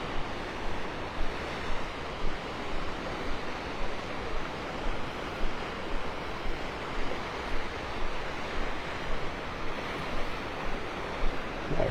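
Ocean surf rolls in along the mile-long beach at Delnor-Wiggins in North Naples, Florida, on a partly cloudy morning, a steady broadband wash with gentle rhythmic swells and some wind buffeting, no voices.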